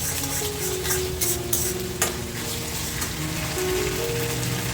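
Momo stuffing sautés in hot oil with ketchup and black pepper, a steady dense sizzle close by, broken by a few light scrapes and taps of a spoon as it is stirred.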